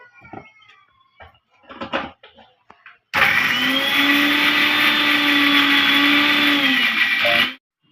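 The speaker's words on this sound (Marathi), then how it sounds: "बारीक करून घ्यायचं आहे मिक्सरच्या भांड्यामध्ये." A mixer grinder runs loudly and steadily for about four seconds, grinding garlic and cumin in its jar, after a few light kitchen clatters, then cuts off abruptly.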